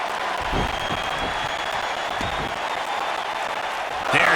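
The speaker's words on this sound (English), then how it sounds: "Wow, the crowd's on the edge of their seats." A virtual arena crowd in a Shield versus Evolution wrestling video game applauds steadily, a continuous wash of clapping and cheering with a brief swell at the end.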